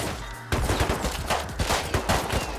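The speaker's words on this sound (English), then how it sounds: "I'm still getting shot at." Gunfire in the video game Rust, rapid bursts of shots crackling densely over a steady noisy background, loud and continuous through the short stretch.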